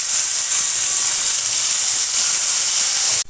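Steamed spiny gourd hits a hot pan of fried poppy seeds with a loud, steady hiss of sizzling that lasts without a break and cuts off abruptly at the very end.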